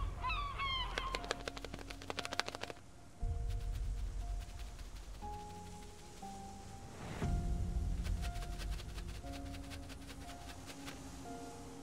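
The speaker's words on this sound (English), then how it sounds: "Gulls." Gulls on Skokholm island give a few harsh, honking calls near the start, then steady tonal music carries on beneath scattered sounds.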